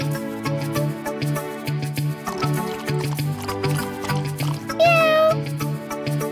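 A hungry kitten meows while being fed milk from a bowl, a single rising cry near the end over light background music.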